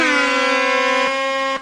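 A loud, sustained air horn blast with rich harmonic tones rings out in a Minecraft game for about a second and a half, then cuts off abruptly.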